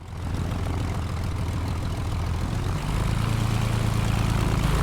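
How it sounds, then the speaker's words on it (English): A Junkers F13 propeller plane in Microsoft Flight Simulator runs with a loud, steady, chunky engine drone that thickens and grows slightly louder partway through, heard close and alone with no talking. "one thing I love already is the sound effects on this thing. It's such a chunky plane."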